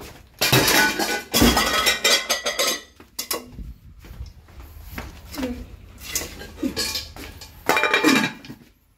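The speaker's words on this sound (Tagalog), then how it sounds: "ang ginagawa mo ng mga kaldero mo." Cooking pots being handled at home, with loud clattering metal knocks and clinks in bursts, some dishes clinking against each other, and a voice speaking briefly between them.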